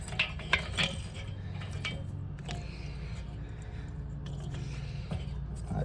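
Cherry wood chunks are set by hand into a Weber kettle grill for smoking a pork shoulder: a few hard knocks and clatters near the start, then quiet scraping and shuffling against a steady low background hum.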